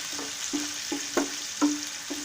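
Hilsa fish dopiaza masala sizzling in a pan, a steady soft fry with a few stirring scrapes at intervals, close by with no voices.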